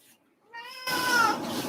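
A cat meows outdoors in the cold, wanting to be let inside: one close, drawn-out meow that rises out of near silence and holds strongly to the end.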